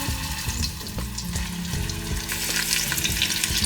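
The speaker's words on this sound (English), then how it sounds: "You wanna sear all 4 sides ideally" Short ribs searing in scorching hot oil in a pan give a steady close sizzle and spatter, with faint clinks and scraping of the meat being turned throughout.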